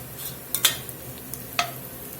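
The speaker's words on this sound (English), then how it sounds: "So we're going to cook these quite a bit more and brown them up some more." Onions browning in a pan for onion soup, a soft low sizzle with a few quick stirring scrapes and clinks of a utensil against the pan, close and fairly quiet.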